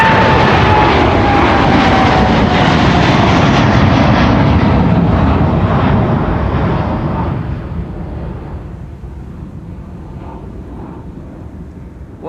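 A Nippon airliner rotates on its takeoff roll at Amsterdam Schiphol, a loud, close jet roar that holds steady, then fades as the aircraft climbs away.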